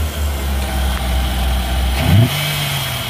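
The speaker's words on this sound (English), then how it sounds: "And the motor sounds good. Listen." A 1992 Ford E350 cargo van, a former police surveillance van, idles steadily with its 5.8 liter engine, close and loud, with one short rev that settles back to a low hum.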